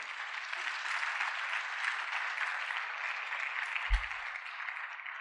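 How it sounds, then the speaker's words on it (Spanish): Steady, dense applause from a church congregation, continuous throughout with a brief low thump partway through. "dale ese aplauso"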